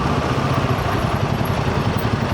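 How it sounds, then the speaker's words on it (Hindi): Triumph Scrambler 400X motorcycle engine idling, a steady low throbbing exhaust note held close and fairly loud with no speech. "अपने स्क्रैम्बलर के एग्जॉस्ट नोट तो क्या कहने"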